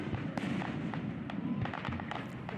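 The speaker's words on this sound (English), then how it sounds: "there's so many rockets going off at so fast, and you know, with Yeah. bombs and aerial explosions" Rockets and aerial shells from the Lake Orion fireworks show burst in quick succession, giving sharp cracks and thumps over a distant, fairly quiet background.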